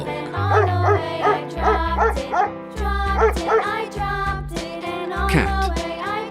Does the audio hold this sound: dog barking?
yes